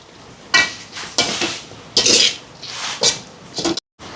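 A spoon stirs ponnanganni greens curry in a metal pot, giving several separate scraping, clinking strokes at an irregular rhythm, close and clear with quiet gaps between them.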